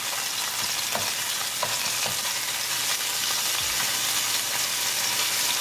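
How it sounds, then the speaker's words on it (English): Ginger and chili paste sizzle steadily in heated olive oil, a continuous close frying hiss with occasional soft scrapes of stirring. "As the oil start to heat up, I'll bring ginger and chili paste. Mix it."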